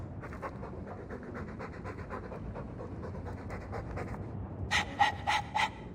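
A dog in the video game Dragon Age 2 pants in fast, even breaths, close and steady, ending in a few louder, sharper huffs.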